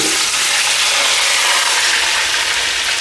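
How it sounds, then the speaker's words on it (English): Broad beans deep-frying in hot oil over a high flame, giving a loud, steady, hissing sizzle that continues throughout with no pauses. "掟晒啲胡豆落去炸"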